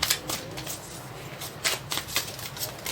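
Tarot cards are shuffled close by, a run of quick riffling bursts with soft flicks and slaps repeating through the passage, with no speech over it.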